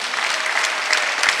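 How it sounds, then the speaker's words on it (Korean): A church congregation claps together during a Sunday worship service, a dense, steady burst of applause that stays loud and close for its whole short span, with no voices over it. "박수 좀 쳐요"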